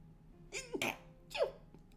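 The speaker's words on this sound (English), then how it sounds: "sneezes hurt." A single sharp sneeze bursts out close by, preceded by a quick intake of breath, then a short exhale afterward.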